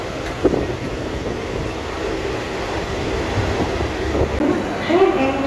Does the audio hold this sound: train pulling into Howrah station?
yes